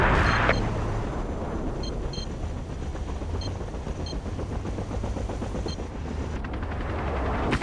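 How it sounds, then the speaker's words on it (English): An enemy helicopter in the video game Battlefield 2 drones steadily and loudly under dense machine-gun fire and gunshot bursts, with a continuous rumbling roar throughout the battle. "Enemy helicopter."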